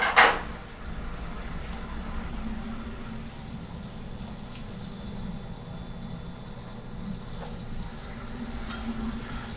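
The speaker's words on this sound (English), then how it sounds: "If it isn't sizzling or smoking, it's not working." Food sizzles steadily on a commercial panini press, a close, continuous frying crackle after a sharp clatter at the start, with faint background noise.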